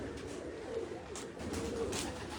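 Pigeons cooing on a rooftop, soft repeated low coos under steady outdoor background noise, fairly faint and continuous with no talking.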